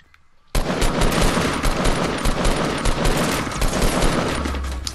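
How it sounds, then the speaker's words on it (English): Sustained automatic gunfire from a Fortnite match starts abruptly after a quiet moment and rattles on loud and dense for several seconds. "He's still shooting at me."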